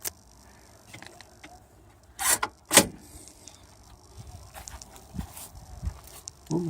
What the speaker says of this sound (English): that was a parking brake